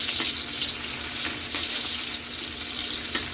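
Garlic and onion sizzle in hot oil with ginger in a pan, a steady bright frying hiss with occasional stirring clicks, close and continuous with no talking.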